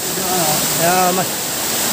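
Steady broadband rush of water at Engkanto Falls, a tourist waterfall in Libmanan, fills the clip evenly throughout, with a voice speaking briefly over the constant wash.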